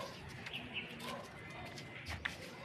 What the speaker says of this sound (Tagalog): Yun yung mga kalapate.